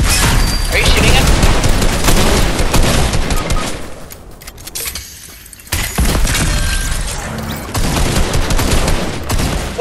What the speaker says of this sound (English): Are you shooting him?